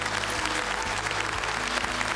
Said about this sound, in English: they started pounding their desks, and then I think they even stood up, which doesn't happen too often, and started clapping